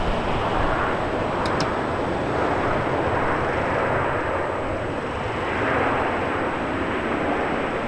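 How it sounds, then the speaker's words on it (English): A Qantas Airbus A330 arriving at Melbourne Airport gives a continuous broad jet roar that holds steady throughout, swelling slightly at times, heard from a moderate distance outdoors. "Qantas A330 Pride just arrived."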